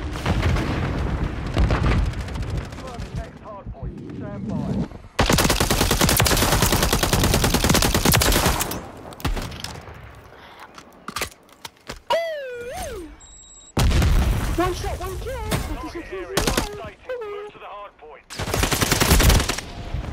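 Call of Duty Modern Warfare 3 gunfire: loud sustained automatic bursts and sharp shots in long dense stretches broken by short gaps, with swooping whistle-like game effects between volleys and occasional voice.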